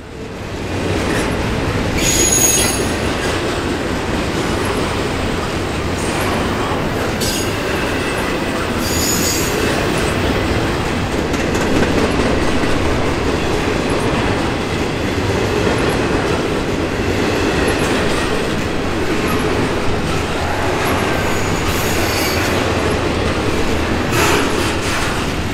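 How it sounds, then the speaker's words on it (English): A long westbound Norfolk Southern intermodal freight train rumbles steadily past close by after climbing through the Allegheny Mountains, wheels clattering and occasionally squealing over a constant heavy roar. "This westbound train has just finished its climb through the mountains."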